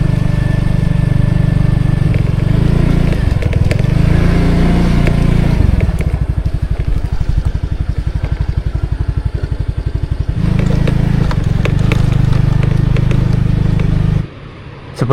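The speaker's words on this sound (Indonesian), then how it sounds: "sekarang kita mau naik motor ke sebelah sana" Motorcycle riding along an Indonesian beach toward a bridge, its engine a steady close rumble with clattering rhythmic pulsing through the middle, then a brief dropout near the end.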